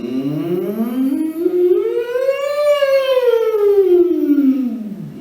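A human voice imitates a siren on a sustained NG hum, sliding smoothly up from low pitch to a high peak and back down in one continuous sweep, close and clear.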